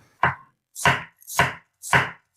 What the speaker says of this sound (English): And here, cut half an onion like this.